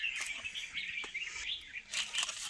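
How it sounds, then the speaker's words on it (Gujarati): Sparrows chirp and tweet outdoors at a temple, a busy stream of bright, overlapping calls with short bursts, fairly close and continuous, with no talk. "તમે ચકલાનો અવાજ સાંભળી શકતા હશો."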